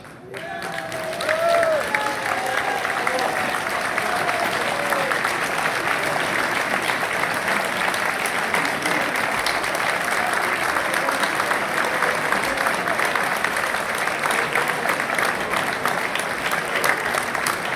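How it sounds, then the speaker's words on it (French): A standing audience at a Cuba solidarity evening in Plédran, Brittany applauds at length, a loud, sustained roar of many hands clapping with a few early cheers and voices mixed in, rhythm steady across the whole stretch. "je vais vous inviter à vous lever et à applaudir"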